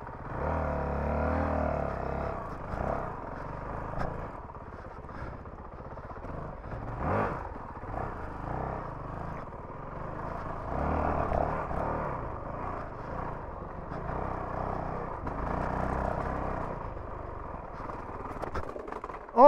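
Honda CRF450RL dual sport motorcycle ridden on narrow single track, its engine a steady rumbling drone that swells and eases with throttle, heard alone with no one talking.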